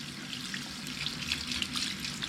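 Warm tap water runs steadily into a sink for washing rain gear, a continuous close splashing rush with no talk.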